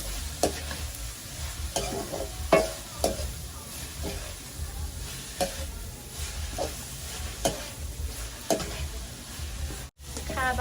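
Shallots fry in a pan with a steady close sizzle, broken by repeated scraping strokes of a utensil stirring them at an uneven rhythm.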